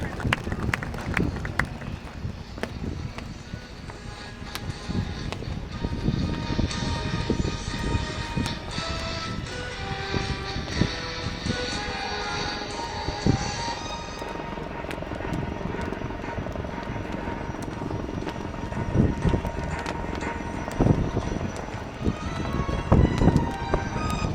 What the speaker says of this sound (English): that completes the display by the light combat helicopter